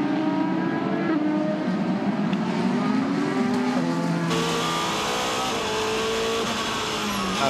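Porsche endurance prototype race cars roar past on the track during a six-hour race at the Nürburgring, loud steady engine notes with rising and falling pitch as cars pass in succession.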